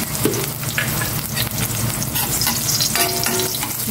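Onion and garlic fry in a hot pan with a loud, continuous close sizzle, broken by occasional stirring scrapes, with no talking.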